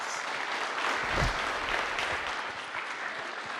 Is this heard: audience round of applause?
yes